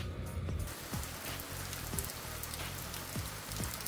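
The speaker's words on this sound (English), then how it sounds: "That nice sound of crisp rain." Steady rain falls in the Japanese countryside, a continuous crisp patter with scattered individual drops tapping nearby surfaces, moderately close and without voices.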